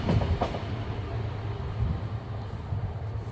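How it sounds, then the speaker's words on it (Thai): A train rumbles past nearby, a loud continuous low roar with faint rhythmic clatter of wheels on the rails and no talking. "รถไฟมาอีกแล้วค่ะพี่น้อง"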